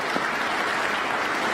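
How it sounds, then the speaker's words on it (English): Audience applause at a police recruit class commencement ceremony, a dense, even wash of clapping that stays steady and fairly loud through the brief moment. "I think that each of you deserve a round of applause"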